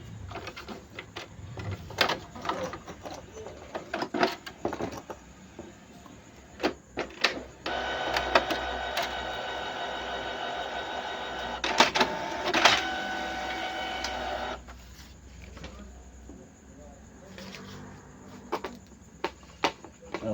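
A Canon TS207 inkjet printer powers back up, its motor whirring and clicking in stages with a sustained louder grinding stretch in the middle, heard close with brief pauses between mechanical bursts.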